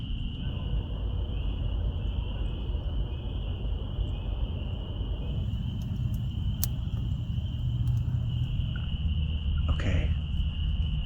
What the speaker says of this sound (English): you're just gonna hear crickets and frogs